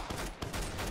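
Rapid gunfire in the Roblox shooter Arsenal, a dense, loud burst of shots crackling steadily through about a second with no talk.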